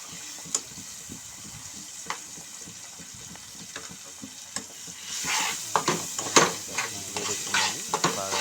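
Eggs stirred and frying in a pan for egg noodles, with scattered light clicks and scrapes giving way to a stronger sizzle and repeated stirring scrapes in the final seconds.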